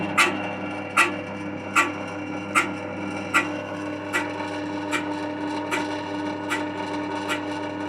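A tungsten carbide chisel taps against a spinning grindstone wheel, giving sharp, evenly spaced ticks about once a second over a steady grinding hum, loud at first and then fading.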